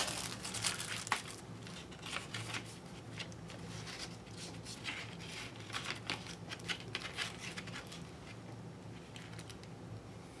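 A piece of paper sewing pattern is crinkled and pressed into a small box, making soft, close, irregular rustling and crumpling sounds throughout.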